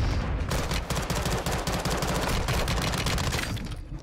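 Dense, sustained automatic gunfire from the Modern Warfare 2 campaign, with loud rapid bursts overlapping almost without pause for about four seconds and then easing slightly at the end.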